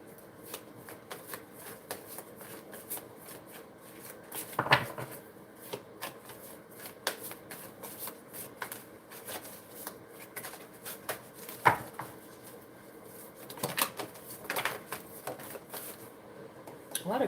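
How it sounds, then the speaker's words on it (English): Tarot cards riffled and shuffled at close range in a quiet room, with repeated soft flutters and a few sharper slaps as cards drop, under faint background noise. "A lot of cards keep hitting the floor."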